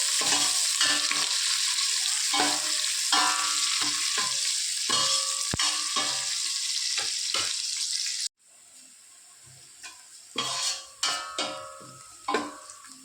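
Onions frying in a pan for a chicken dish: loud continuous sizzling broken by repeated spatula scrapes and stirs, then a quieter stretch with a few sharper stirring clatters.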